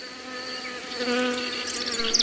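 Honeybees buzz around beehives in an apiary at a Loire château, a dense, steady, close insect drone with shifting whines of individual bees passing nearby. No voices.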